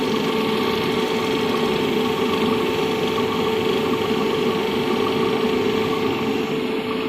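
A DC shunt motor under a brake-test load runs continuously, giving a loud, steady mechanical whine with constant humming tones and no pauses, heard alone throughout.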